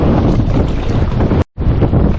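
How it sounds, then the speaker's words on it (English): Strong wind gusts of 20 to 30 knots buffet the microphone while paddle boarding after a tropical storm, a loud continuous roar with a brief dropout near the end. "I got hit with another probably 20, maybe close to 30 knot gust."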